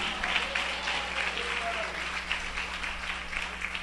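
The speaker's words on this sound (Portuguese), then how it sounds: "aplaude a Cristo com alegria" A church congregation claps together in a dense, steady wash of applause that lasts throughout, with a voice speaking over it.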